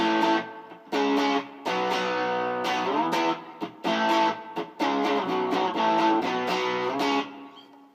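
Distorted electric guitar plays a power chord riff at full speed, with chunky sustained chords broken by short muted stops, loud and close with no voices.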